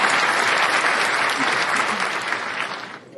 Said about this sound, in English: Can you hit that applause button for me real quick?